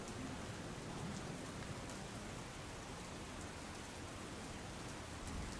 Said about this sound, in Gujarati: વેરાવળ તાલુકામાં પણ ધોધમાર વરસાદ વરસ્યો